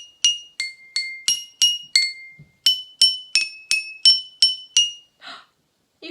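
A homemade glass xylophone struck with a mallet, a dozen bright ringing clinks in a steady rhythm, close and clear, stepping from higher to lower pitch with a short pause midway.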